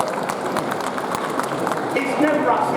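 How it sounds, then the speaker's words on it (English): Applause from a seated audience at a workplace safety talk, a steady patter of many hands clapping at moderate distance for a few seconds, with faint voices rising near the end. "Round of applause."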